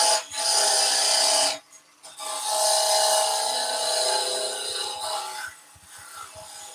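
A parting tool shears into spinning wood on a lathe while turning a seed pot maker, a loud, steady, close cutting hiss that breaks off briefly, resumes and fades into lighter scraping and taps.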